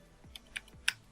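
A few soft, separate clicks on a computer keyboard sound while CSS code is typed, quiet and close with no voices.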